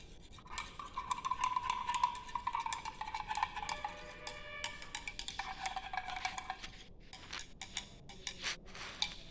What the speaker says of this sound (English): Here also I am going to stir it.